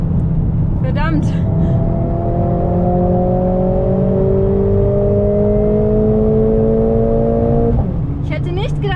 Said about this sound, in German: Beim Fahren klingt der wesentlich besser und das probiere ich jetzt mal aus.